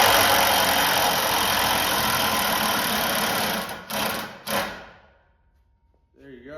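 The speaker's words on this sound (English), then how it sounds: "so then I just use my 1/2 inch impact." A 1/2 inch impact wrench runs continuously while building a snowmobile lift, a loud sustained buzzing whir close by that cuts off in a couple of short bursts before fading to near silence.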